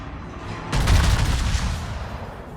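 Naval gunfire from a North Carolina battleship's guns in World of Warships: a loud, sudden salvo bursts in and rolls on with booming, rumbling decay, close and heavy, with no talk over it.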